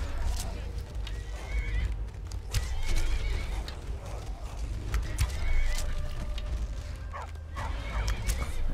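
A horse in the Skyrim video game whinnies and neighs several times over clip-clopping hooves and combat noise, with a dog barking at moments amid a busy, mid-level game soundscape.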